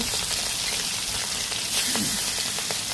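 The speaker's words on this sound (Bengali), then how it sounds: "মশলা মাখিয়ে গরম তেলের মধ্যে আমি এক এক করে দিয়ে ভেজে নেব" Spiced rui fish pieces frying in hot oil, a steady loud sizzle that fills the whole stretch with a few soft pops and clinks on top.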